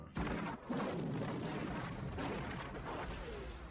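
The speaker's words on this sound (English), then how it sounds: "there's the Cobra assault cannon, which goes boom" The Cobra assault cannon fires in a Terminator versus Robocop fight, a dense booming blast followed by rolling explosive rumble and crashing debris, loud and sustained with no talking.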